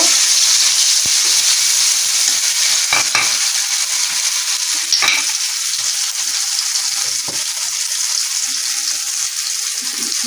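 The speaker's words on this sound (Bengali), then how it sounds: "তো আমরা কড়াইয়ে প্রথমে রান্নার তেল দিয়ে নিব তিন চামচ এখানে পেঁয়াজ বাটা আদা বাটা জিরা বাটা গরম মশলা বাটা এগুলা দিয়ে দিব" Onion, ginger, cumin and garam masala pastes fry in hot oil in a wok for chicken curry, a loud continuous sizzle with scattered spoon clicks and stirring scrapes throughout.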